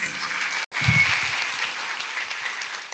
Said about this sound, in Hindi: एक बार सभी कार्यकर्ताओं के लिए जोरदार ताली बजा करके अभिनंदन